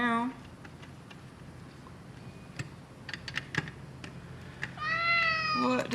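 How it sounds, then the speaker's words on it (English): A house cat meows near a cluttered electronics workbench: a short cry at the start and a longer, wavering meow at the end, with scattered clicks and tapping in between. "What does the cat want?"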